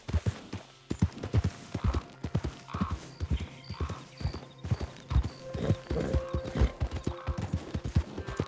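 Horse hooves clip-clop in a steady galloping rhythm across Red Dead Redemption 2, close and continuous, with occasional snorts and faint whinnies over game ambience.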